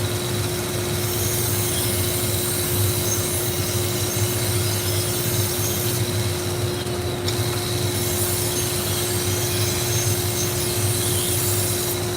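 Soft-metal knife blade being sharpened, a continuous close grinding rasp with a steady hum underneath, unbroken and fairly loud, no talking.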